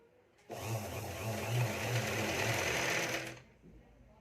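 A sewing machine topstitches a finishing line along fabric with the lining folded inside, running in one steady, close burst of about three seconds before stopping.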